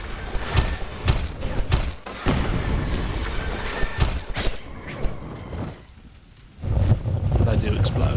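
Enemies explode in the Steamdolls video game, heavy booming blasts and thuds scattered across a rumbling, crackling din, a voice talking over it before a brief lull and a renewed roar.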